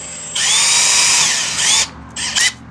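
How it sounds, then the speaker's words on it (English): A power drill bores a pilot hole with a size 3 bit during work on a 2000 Yamaha R6 tail tidy, a loud close whine held for over a second, then a few short bursts. "I'm going to just drill in a nice little pilot hole with a size 3"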